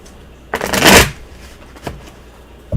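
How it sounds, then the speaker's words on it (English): A single quick riffle of tarot cards being shuffled, followed by a couple of soft taps as the deck is squared up. "why don't you shuffle?"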